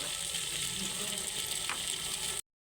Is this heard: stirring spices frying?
yes